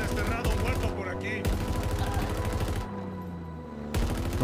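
Gunfire in the Halo Infinite video game, bursts of shots crackling amid the game's dense music and effects, cutting in and out in short loud stretches with pauses between them.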